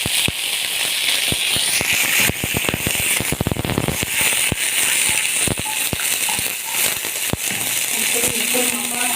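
Vinegar poured onto golden fried garlic in a hot frying pan, giving loud, dense crackling and spitting sizzle throughout, with sharp pops scattered over the hiss.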